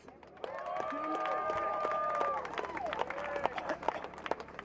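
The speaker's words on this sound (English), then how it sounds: "Let's give him a round of applause." A crowd at the San Francisco March Against Monsanto rally claps and cheers for the founder, Eric Eberman, with sustained whoops and shouts over scattered clapping across several seconds.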